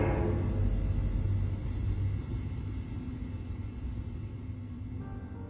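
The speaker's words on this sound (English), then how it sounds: "While the sky rumbles with thunder and lightning" Low thunder rumbles on a rainy night during a storm, a deep continuous roll that is strongest at first and then slowly fades to a softer steady rumble.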